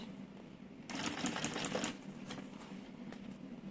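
Sewing machine stitching fabric for an organizer, a brief burst of fast, even mechanical whirring lasting about a second, followed by faint clicks and quiet.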